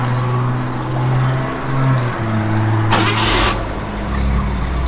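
A 1955 Chevrolet Bel Air engine cranks briefly, then fires and settles into a steady, close idle with a low rumble.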